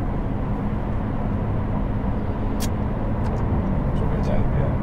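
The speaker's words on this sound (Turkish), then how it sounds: "Bir de ses sanki direkt böyle egzoz yokmuş ve motordan çıkıyormuş gibi geliyor" A Ferrari 599 GTB driving, with a steady low engine and exhaust roar heard from inside the cabin, continuous and even in loudness, with a couple of faint brief high squeaks near the end.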